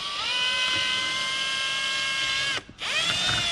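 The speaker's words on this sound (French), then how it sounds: "on perce les trous de part en part" A drill bores small holes straight through a plastic fender extension for a Can-Am vehicle, a steady high-pitched whine running close and loud, dipping briefly as the bit stops, then spinning back up.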